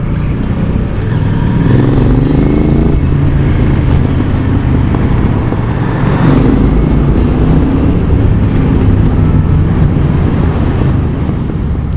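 Motorcycle exhaust roaring inside a road tunnel on a European touring trip, a loud, sustained engine drone with revs swelling around the middle, echoing and continuous throughout.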